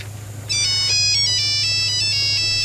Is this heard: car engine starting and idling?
no